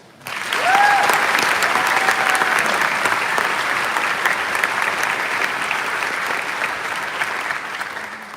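Sustained audience applause welcoming a speaker at a graduation ceremony, a dense, loud wash of clapping from a large crowd that swells quickly and then holds steady, slowly easing off near the end.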